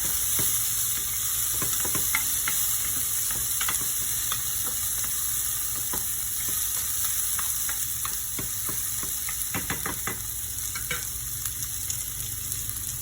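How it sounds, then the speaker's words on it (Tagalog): Tomato sautéing with garlic and onion in a pan while cooking ginisang ampalaya: a steady sizzle with frequent clicking spatula scrapes and stirs, fairly close, with no voices. "ngayon, isusunod naman nating isote ang kamatis or tomato"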